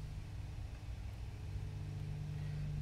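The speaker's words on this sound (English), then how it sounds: "And I hear the motor start up, so that's good news." A drone motor spins up on a 35A 4-in-1 ESC under bench test, holding a steady low hum with a faint whine above it at constant moderate loudness and no voices.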